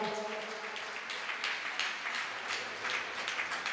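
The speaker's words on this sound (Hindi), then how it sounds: "जोरदार तालियां, अरे जोरदार तालियां बजाइएगा।" Steady clapping from a crowd gathered at a Guru Purnima religious ceremony, a continuous wash of applause at moderate distance with no voices standing out.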